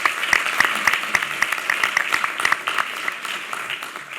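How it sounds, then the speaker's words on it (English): Audience clapping at a state wine, beer, spirits and cider summit, a burst of applause that starts crisp with distinct claps and gradually thins out. "Let's give him a round of applause"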